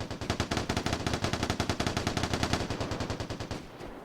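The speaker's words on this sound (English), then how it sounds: "it sounded like he got into a gunfight" Rapid automatic gunfire in the video game Vigor, a steady stream of bursts heard from a distance inside a drainage pipe, continuous for several seconds before abruptly stopping.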